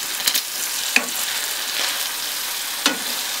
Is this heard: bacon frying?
yes